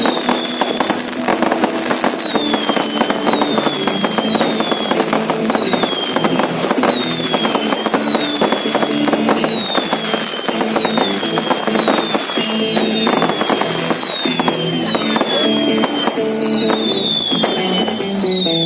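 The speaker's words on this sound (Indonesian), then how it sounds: "Setiap sudut sepertinya dipenuhi kembang api." Dense, continuous New Year fireworks over Ambon city crackle and boom all around, with repeated rising whistles of rockets streaking up before bursting, loud and unbroken throughout.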